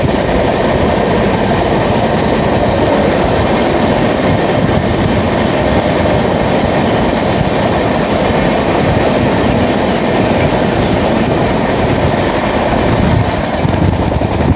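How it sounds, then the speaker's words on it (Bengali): The 11020 Bhubaneswar–CSMT Karnataka Express passes loudly and close on the opposite track, a continuous roar of wheels on rail with clickety-clack and metallic squeal throughout. "সামনে থেকে আসছে 11020 ভুবনেশ্বর CSMT কর্ণাটক এক্সপ্রেস"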